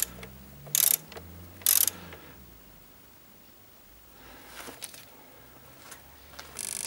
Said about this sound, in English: Tighten the lower mounting bolt.